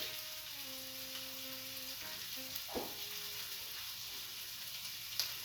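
Crumbled sausage and grated garlic sizzle in a hot pan, a steady close hiss with a couple of soft knocks from stirring and faint background tones, no voices.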